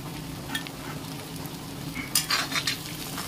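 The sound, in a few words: chopped tomatoes and salt frying while being stirred in a pan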